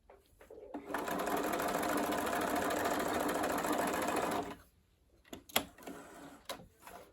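A sewing machine back stitches along the edge of a school dress, running in one steady whirring burst for several seconds before stopping, followed by a few sharp clicks and knocks.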